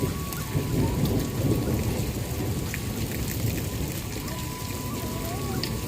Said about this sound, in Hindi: बारिश तो बिल्कुल थमने का नाम नहीं ले रही थी